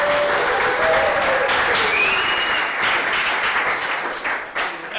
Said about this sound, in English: one more round of applause for Checkpoint,